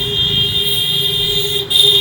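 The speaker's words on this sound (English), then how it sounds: "Now the car is going to pass by with a constant horn" A car sounding a constant horn drives past, a steady high-pitched tone holding loud and unbroken over the low rumble of the vehicle, with a brief dip near the end.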